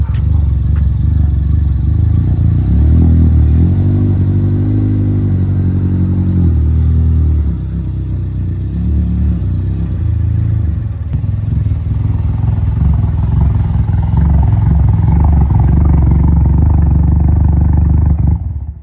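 Ford Focus ST engine revving hard and steadily in place while the car fails to back up, a loud continuous low rumble with rising and falling revs and some clatter from the car.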